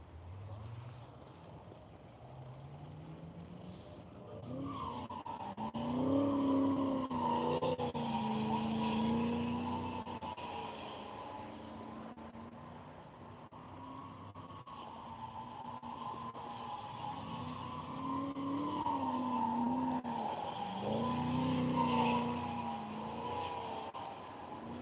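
A race car skids and loops on a dry skid pad, its engine revving and tires squealing in long howling sweeps, rising and falling over a windy, fairly distant backdrop.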